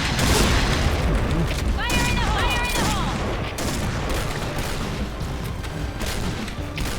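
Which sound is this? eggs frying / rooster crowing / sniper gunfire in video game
sniper gunfire in video game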